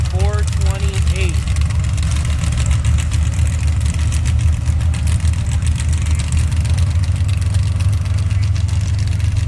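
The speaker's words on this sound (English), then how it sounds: "In the Rape Tape Jeep up against Brandon Montgomery in the Team Hardcore Chevy pickup" Drag racing Jeep and Chevy pickup idling together at the start line of a Pro Bracket elimination at the Avenal Spring Nationals, a steady loud low engine rumble throughout with faint brief tones early on.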